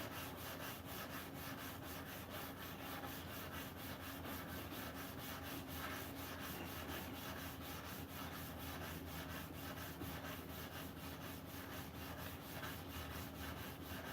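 A knife blade is hand sanded with 240 grit paper after grinding, giving a faint, steady back-and-forth rubbing that keeps a constant rhythm throughout, alone with no talking.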